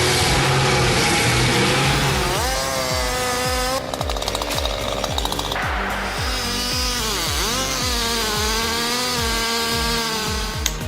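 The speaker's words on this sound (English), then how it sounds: "Utilizing a handheld chainsaw, a skilled lumberjack can efficiently fell large trees." A handheld chainsaw cuts into a large tree trunk with a steady, loud two-stroke engine drone. Its pitch rises and falls in repeated surges as the cut loads and frees the chain, with a harsher rasping stretch midway.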